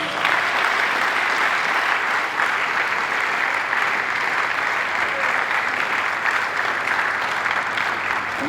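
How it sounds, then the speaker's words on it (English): A crowd applauds steadily and loudly at a university speaker series event, a dense wash of clapping that holds evenly throughout without fading. "Please, a massive round of applause"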